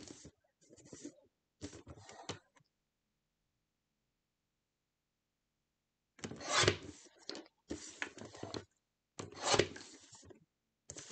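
A personal paper trimmer slices a scrapbook paper mat in several short, close rasping strokes, a couple of quick cuts, a pause of silence, then three more firm cutting passes.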